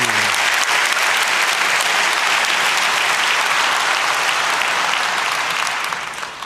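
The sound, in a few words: audience applause for speaker at conference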